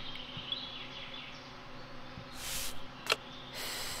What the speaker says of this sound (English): Wasps are very dangerous.